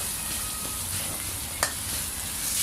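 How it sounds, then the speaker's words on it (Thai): Thai curry paste stir-roasts in a pan over medium-low heat, a steady close sizzle with a brief scrape of stirring partway through and no voices. "เคี่ยวคั่วไปเรื่อยๆครับ ให้หอม"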